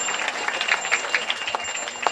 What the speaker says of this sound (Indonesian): Tepuk tangan paling besar buat kedua mempelai.